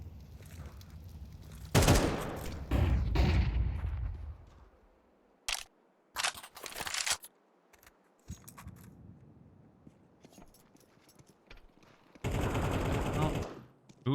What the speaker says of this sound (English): I hear the pistol popping